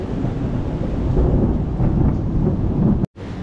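Heavy rain pours steadily with a deep rumble of thunder, heard from a hotel balcony overlooking a pool at Sunny Beach, Bulgaria. The roar is loud and constant, then cuts off briefly near the end.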